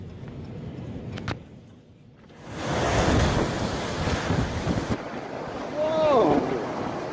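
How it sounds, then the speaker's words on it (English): Tornado storm in Cook County: heavy wind and rain roar building to a loud, sustained rush with gusty surges, faint earlier rumble, and a brief high whistling near the end. "This has got to be a tornado."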